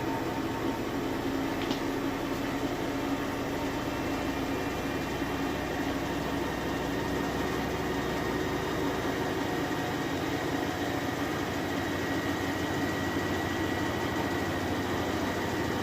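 Steady, dense mechanical whir with a constant broadband rush from a Whirlpool Cabrio top-load washing machine spinning a large load at full speed, loud and unchanging throughout.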